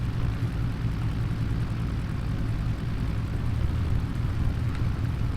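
A Piper Arrow III PA-28R-200 propeller engine in the X-Plane 10 flight simulator drones steadily at a low, rumbling pitch as the revs are lowered, fairly quiet and unbroken, with no voices.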